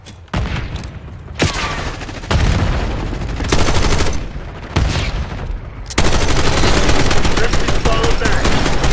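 Dense Black Ops 6 multiplayer gunfire on the Babylon map, loud and close, with rapid automatic bursts, booming shots and continuous firing that swells toward the end while a radio voice speaks over it.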